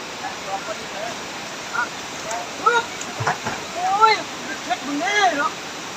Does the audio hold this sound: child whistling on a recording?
no